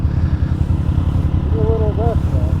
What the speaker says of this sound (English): We are riding the old 620 to get an inspection.